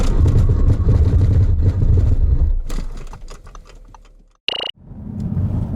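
A 2019 Audi A5 Sportback during a road test pulls hard with a loud, steady engine and road roar that fades away as the car slows, then there is a brief sharp tone, and the drone swells back up.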